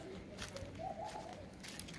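A pigeon sitting on its eggs in a loft gives a brief, faint, low coo against a quiet background.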